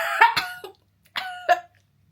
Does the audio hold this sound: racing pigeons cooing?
no